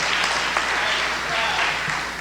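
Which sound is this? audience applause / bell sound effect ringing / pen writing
audience applause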